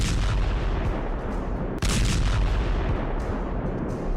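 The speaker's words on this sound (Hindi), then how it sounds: "कद्र मिसाइलों ने इजराइल के हाइफा, डिमोना, हाइफा के पास अल खुद्रिया और तेल अवीव के उत्तर और दक्षिण इलाकों को निशाना बनाया।" Distant heavy booms and rumbling blasts in a dense continuous barrage, as Iranian missiles strike Israeli cities including Haifa, Dimona and Tel Aviv; loud, rolling low-end roar with a sharp burst near the middle and no speech.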